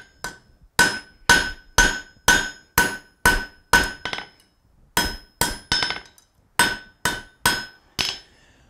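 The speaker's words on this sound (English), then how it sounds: "let me go to the face of the anvil and straighten it." Hammer blows ring out on an anvil face as a forged steel J hook is straightened, coming in quick bursts of sharp metallic strikes with brief pauses between groups, loud and close with no talking.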